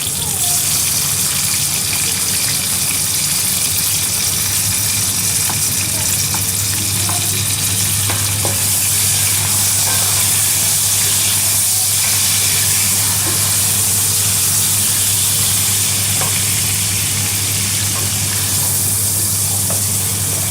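Tomatoes, ginger and garlic fry in hot oil for a beef kofta gravy, giving a loud, steady sizzle with bubbling and occasional stirring scrapes that runs unbroken throughout, close and full with no voices.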